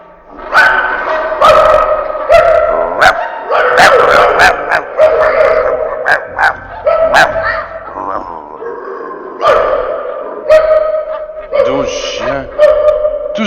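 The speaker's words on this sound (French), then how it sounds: "Et enfin, un traîneau tiré par 12 chiens." Several sled dogs from a twelve-dog team bark and yip in repeated bursts close by, with a few drawn-out howls and whines mixed in.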